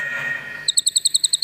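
Rapid, regular high-pitched bird chirps, about ten in quick succession, clear and fairly close, following a soft low hum.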